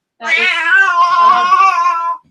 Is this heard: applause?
no